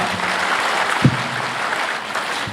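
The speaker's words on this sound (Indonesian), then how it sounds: "tepuk tangan dong untuk semua RT RW kita ya" Applause from an audience at a public discussion forum in Cirebon makes a continuous, moderately loud patter of many hands, with a brief thump partway through and no speech on top.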